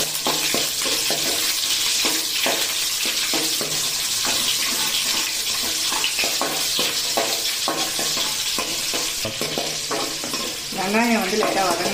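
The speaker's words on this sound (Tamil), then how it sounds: "இது நல்லா பொரிஞ்சதுன்னா இதில் பூண்டு போட்டு நல்லா வதக்கிக்கோங்க." Garlic sautéing in hot oil for a Tamil fish curry gives a bright, steady sizzle under repeated scraping and clinking of a spoon in the pan, with a short watery splash near the end.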